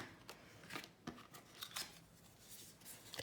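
Scissors cut Bristol paper in a string of close, crisp snips at an uneven pace, with soft rustling between the cuts.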